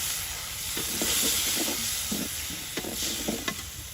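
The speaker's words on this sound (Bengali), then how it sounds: "মাছের জন্য আলুগুলো খুব সুন্দরভাবে কষে নিব।" Potatoes frying and being stirred in a pan with ground ginger, spice paste and chopped onion for a village-style Bengali fish curry: a steady close sizzle with repeated scraping stir strokes, no voices.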